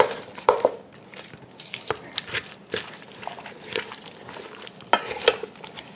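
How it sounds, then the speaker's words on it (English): A spoon stirs a crab casserole mixture with mayonnaise in a bowl, giving soft, irregular scraping and clinking taps close by, with no talk. "Putting a little bit of mayonnaise. Okay, and let's get this stirred up."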